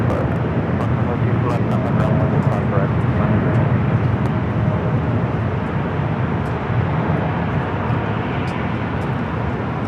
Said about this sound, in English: We're doing that Japan Dreamliner now rolling down there 25 right.